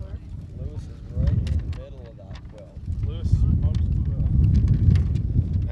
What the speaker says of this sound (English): That's a pretty significant gust right there.